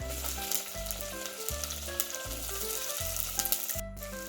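Sliced big onion sizzling in hot oil with fennel seeds for a Jaffna-style spicy soya bean curry, a steady close frying crackle under a pulsing low hum, no talk.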